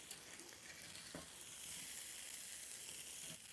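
Corned beef hash fries in a pan with a steady, quiet sizzle, broken by a couple of soft scraping knocks as it is stirred and patted down.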